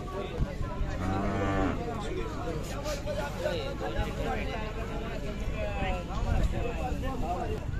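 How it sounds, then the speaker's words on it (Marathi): Khillar cows and other cattle at a crowded cattle fair and trade exhibition at the Pandharpur Magh Wari yatra, lowing amid constant crowd chatter and wind, with someone talking nearby. "पाहू शकता प्रदर्शनासाठी सुंदर गायी आलेले आहे"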